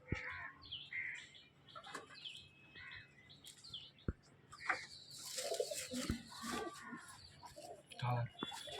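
Pigeons coo inside a loft while many birds chirp and flutter nearby, with brief knocks and clatter, and people talk throughout.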